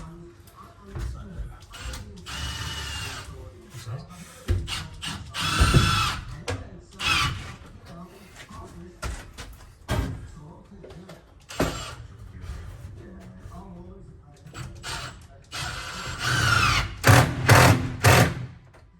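A power tool drives screws into the wooden wall of a sauna being built inside a horsebox, in short whirring bursts spread across the stretch, with people talking between them.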